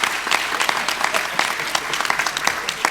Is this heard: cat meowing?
no